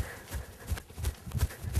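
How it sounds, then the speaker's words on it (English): A horse moves close by with soft, irregular hoof thuds in a clip-clop rhythm, like slow walking steps, at a moderate level with no talk over them. "This is my horse, Sunny."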